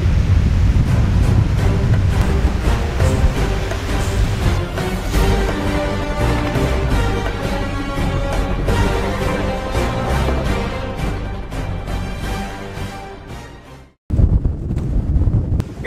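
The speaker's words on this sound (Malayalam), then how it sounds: "ഒരു രക്ഷയില്ലാത്ത കാറ്റ്, ഒരു രക്ഷയില്ലാത്ത കാറ്റ്" Strong wind blows at a beach and buffets the microphone in a loud, continuous roar. The roar cuts out briefly near the end, then returns just as hard.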